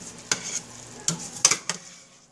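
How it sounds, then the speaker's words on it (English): A spoon gives a few quick, distinct clanks and scrapes against a pot of unstuffed peppers over a soft simmering sizzle, heard close with no talking. "Just give it a quick stir."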